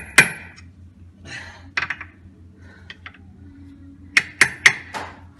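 Metal hammer blows on a John Deere tractor's wheel drive during repair: a sharp strike, a few scattered knocks, then three loud, ringing hits in quick succession near the end, with faint murmuring voice between.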